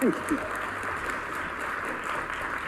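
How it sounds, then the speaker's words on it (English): Audience applause at a Samsung Galaxy M10 and M20 smartphone launch event, a steady wash of clapping across the whole stretch, with a voice briefly audible at the start. "you can give a round of applause for that one"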